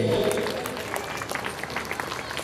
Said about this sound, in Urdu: تالیوں کی آواز اس گراؤنڈ کے باہر تک جانی چاہیے